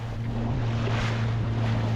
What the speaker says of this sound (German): mit den Zodiacs durchs Wasser zu jagen